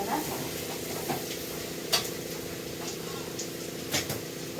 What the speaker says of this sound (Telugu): ఇట్లా కొంచెం బాగా కలుపుకోవాలి ఇట్లా మంచిగా, ఎందుకంటే నూనె అంతా ముక్కలకు పట్టాలి కదా.